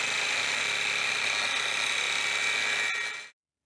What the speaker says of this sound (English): I'm going to cut that shank off just with my angle grinder